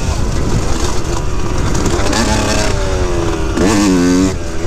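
A motorcycle engine runs close and loud on post-rain laps, its rider in third gear instead of second; the drone is steady, then the pitch climbs in strained revving toward the end.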